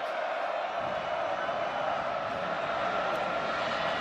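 A stadium crowd at a Clemson versus Notre Dame college football game sends up a steady, broad roar that holds for a few seconds without letting up.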